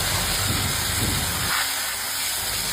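Spice paste for a paneer dish frying in a hot wok gives off a steady, loud sizzle and hiss, denser at first and easing slightly after the first second and a half.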